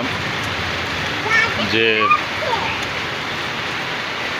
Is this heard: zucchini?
no